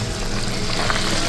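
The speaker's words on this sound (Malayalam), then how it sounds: "ഇവിടെ ഞങ്ങൾ പിടിച്ച മീനെല്ലാം വറുത്തടിക്കുന്നു" Freshly caught mullet fries in a pan at a New Zealand campsite with a loud, close, continuous crackling sizzle that holds without a break over the short stretch and has no talk.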